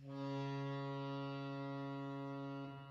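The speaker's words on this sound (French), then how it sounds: "En fait, c'est une sirène de bateau." A boat horn sample processed with effects sounds as a loud, sustained, buzzing harmonic drone that holds for nearly three seconds before cutting off, with no voices.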